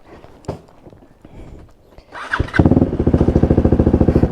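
A KTM Duke 390 motorcycle is wheeled indoors: scattered handling thumps give way to the engine rumbling into a loud, rhythmic idle that throbs steadily to the end.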